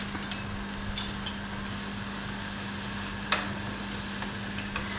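Kaanda bhajjia batter studded with peas and carrots fries in a pan with a steady, low sizzle, broken by a few faint stirring clicks and one sharper scrape near the end, with no voices.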